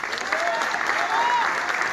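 A crowd applauds steadily in a continuous wash of clapping, with voices blended into it, during a political speech in Córdoba.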